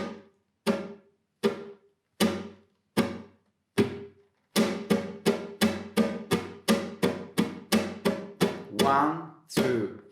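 Sharp percussive flamenco guitar strums, first spaced out singly, then a fast steady run of triplet rasgueado strokes in repeating groups of three, close and loud.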